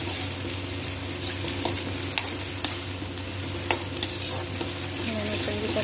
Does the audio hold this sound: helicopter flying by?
no